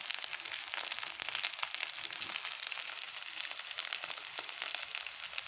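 Pakoras fry in hot oil with a steady, dense sizzle and crackle that holds evenly throughout, close and fairly loud, with no talking.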